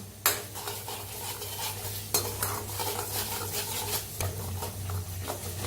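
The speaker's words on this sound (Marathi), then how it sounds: "कढीपत्ता हलवून भाजूया आपण" Curry leaves are stirred and roasted in a pan of hot oil while making Kolhapuri-style kat vada masala. A spoon scrapes and knocks against the pan over a constant close sizzle, with no talking.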